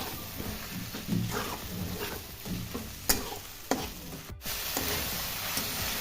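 Chopped tomato stirred into frying spice paste for chicken jhol, a soft sizzle under intermittent spatula scrapes and a few sharper knocks against the pan, fairly quiet and without talk.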